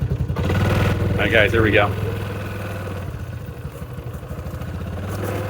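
A motorcycle engine chugging at low speed on the road, a close, pulsing mid-pitched rumble that rises and settles, with someone speaking briefly over it near the start.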